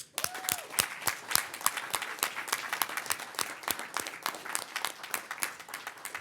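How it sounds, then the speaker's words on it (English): An awards-ceremony crowd applauds Praise Theatre Ensemble and Arts Ministry, with sharp individual claps standing out from a sustained spread of clapping across the room. "a round of applause, please, for Praise Theatre Ensemble and Arts Ministry"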